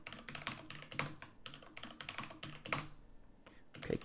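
Fingers tap out a new password on a computer keyboard, a close run of crisp, uneven keystrokes in short bursts with brief pauses between them, no talking.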